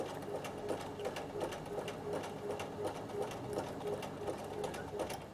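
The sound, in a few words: Bernina sewing machine zigzag stitching over straight rows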